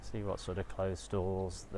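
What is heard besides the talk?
No distinct noise like a dog, phone or traffic.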